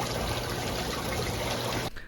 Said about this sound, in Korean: 횟집에서 요 바닷물을 좀 떠가겠습니다.